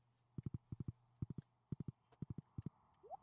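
Horse hooves clip-clopping in the farming video game Stardew Valley, a brisk run of crisp, evenly paced hoofbeats in groups of two and three, clear and close, with no speech.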